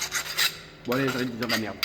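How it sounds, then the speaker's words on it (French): A hand file rasps across a stainless steel exhaust silencer being fabricated for a Hyundai Coupe, with close, gritty strokes and someone speaking briefly over the filing. "un coup de lime, ça coûte rien."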